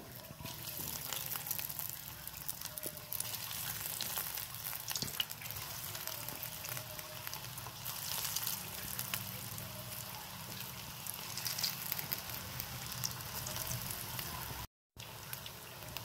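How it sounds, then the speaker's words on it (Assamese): Snacks for Bhogali Bihu are dropped one by one into hot oil and fry with a constant bubbling sizzle, while a person talks over the cooking. "এতিয়া এটা এটাকৈ ইয়াত দি দিলোঁ গৰম তেলত"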